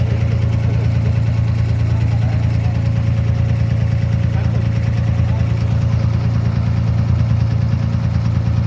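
A boat engine runs with a loud, steady low rumble that holds constant throughout, close by and unbroken.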